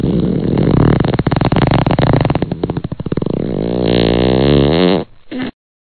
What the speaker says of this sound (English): Daddy Shark releases a big fart from his bum.